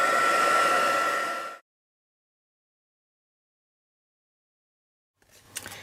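A heat tool blows hot air to melt silver embossing powder, a loud close whoosh for about a second and a half, then silence before a brief faint restart at the end.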